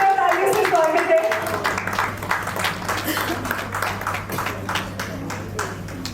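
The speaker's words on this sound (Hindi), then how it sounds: "आइए जोरदार तालियों से स्वागत है।" Audience applause fills a brightly lit stage at a cooking competition grand finale, a dense wash of clapping that swells and carries on under a speaking voice and a low steady hum.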